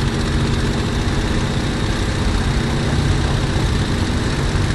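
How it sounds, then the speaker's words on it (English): A Messerschmitt Me 109 fighter's engine runs steadily as power is fed in for the takeoff run, a loud, dense, continuous roar with a deep low rumble, heard alone without talk. "Now start your takeoff run slowly, feeding the power in gently."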